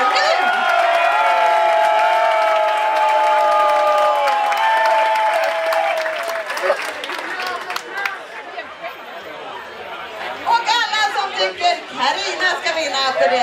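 A studio audience on a Swedish radio or TV quiz applauds and cheers to vote for a contestant, loud clapping with whoops and tonal music at first, then thinning into chatter and laughter.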